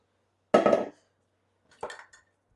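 Two separate clattering knocks of a utensil against a pan while chocolate chipit square mixture is pressed in, the first louder and scraping, the second softer, with quiet between.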